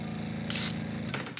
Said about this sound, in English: you want to spray some of that orange on there, like that.